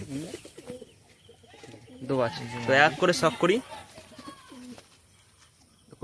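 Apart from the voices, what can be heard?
pigeons cooing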